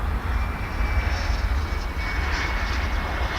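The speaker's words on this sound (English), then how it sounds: "As this plane takes off, for parts unknown, at least to us" A plane takes off from DFW airport, a sustained, broad roar of aircraft engines heard from a distance, steady and droning without voices.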